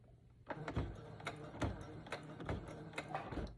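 A sewing machine stitches straight down the middle of a children's braided headband, running in short bursts with rhythmic clacking pulses, close and fairly quiet, pausing briefly between runs.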